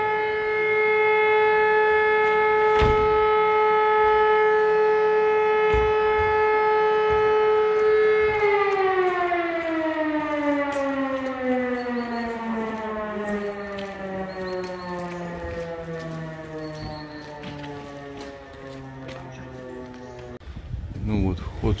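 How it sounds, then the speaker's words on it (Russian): A loud, steady civil defense siren wails in Germany near Altenhausen Castle, holding one pitch, then slowly winding down and falling in tone over many seconds, with faint outdoor noise. "О, сирена."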